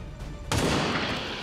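Burst of weapon gunfire in the video game XCOM 2 War of the Chosen, a sudden loud blast followed by a dense, sustained rumbling rattle that slowly decays.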